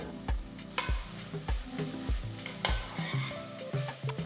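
Tomato pieces and curry leaves are stirred in a pan while cooking for chicken curry. A ladle scrapes and knocks against the metal in a steady rhythm of repeated strokes, with a soft sizzle underneath and no talking.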